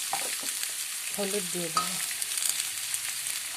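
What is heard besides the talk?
potatoes frying in a pan with salt and turmeric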